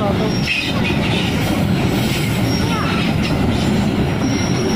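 A coal freight train, number 2654, runs straight through on track 1, rumbling loud and close with steady wheel clatter and occasional squeals, while people talk over it.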